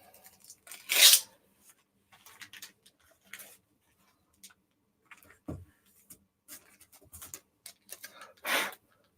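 A resealable adhesive strip on a plastic comic book bag peeled open in short bursts, crisp tearing rips and small crinkly ticks scattered across quiet gaps, close and intimate, no speech.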